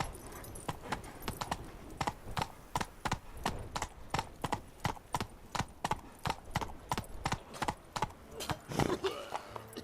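A horse named Roach gallops in The Witcher 3: Wild Hunt, its hooves clopping in a fast, steady rhythm that stays clear and continuous, with a short snort or whinny near the end.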